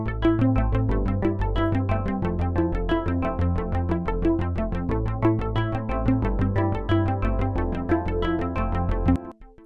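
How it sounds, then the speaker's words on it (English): A sampled PPG piano part plays continuously with dense, rhythmic chords and bass, panning left and right, loud and steady throughout before cutting off near the end. "let's have a little listen to the part we're going to add delays to, that PPG piano part."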